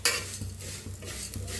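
Vermicelli roasts in ghee in a pan while a spoon stirs it, giving soft scraping strokes at a steady rhythm over a faint background sizzle, close and fairly quiet.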